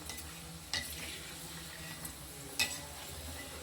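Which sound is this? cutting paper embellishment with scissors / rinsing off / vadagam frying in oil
vadagam frying in oil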